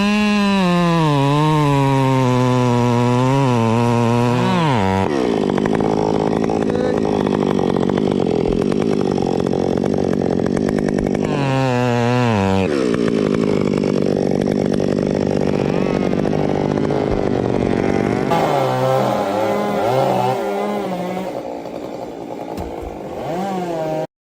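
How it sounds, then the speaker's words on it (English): A chainsaw cuts through a thick tree branch high above the ground. The engine is loud and continuous, revving with rising and falling pitch before settling into a steady, bogged-down cutting drone. "the worker cuts through the thick branch with steady hands. Sawdust falls as the saw hums"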